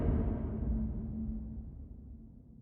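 Reverb return of layered sustained magic cast effects, run through Pro R with a high pass filter: a soft, diffuse wash with a faint steady tone inside it, thinning and fading over about two and a half seconds, with no voices.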